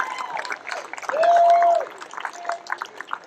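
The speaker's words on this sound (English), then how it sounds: "Huge round of applause for 11 Swag." Guests at a Pacific Air Show VIP reception at the Waterfront Hilton applaud, a moderate wash of clapping and cheering with a whistle rising briefly above the crowd.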